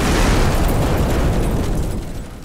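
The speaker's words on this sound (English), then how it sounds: "an explosion so intense it blew windows out in neighboring businesses" A powerful explosion near a building booms and roars in a broad, loud blast that sweeps on and slowly dies away, with no voices.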